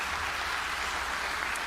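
Church congregation applauding during a worship service, a steady, fairly faint wash of clapping heard from a distance with a low hum underneath.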